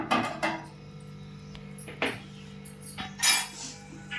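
Cooked mutton being scooped out of a pan onto a plate with a metal utensil, a few sharp clinks and scrapes scattered irregularly across a few seconds, close and fairly loud with no talking.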